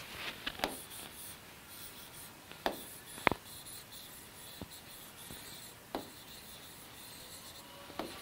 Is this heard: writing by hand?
yes